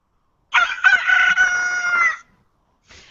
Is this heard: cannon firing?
no